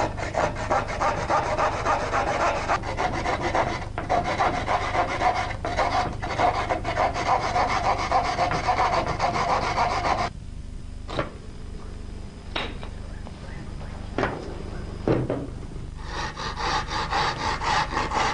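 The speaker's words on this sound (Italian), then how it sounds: "Ritaglieremo poi con una comune sega il materiale in eccesso." A common hand saw cuts excess plaster material on a plaster nativity diorama, giving a steady rasping back-and-forth stroke that runs nearly continuously, close and fairly loud, then turns into slower, separated strokes with short pauses.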